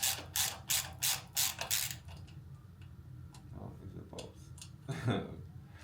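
A hand ratchet works loose the nuts on a hub motor, with several quick, close clicking bursts in a row followed by quieter handling knocks and shuffling.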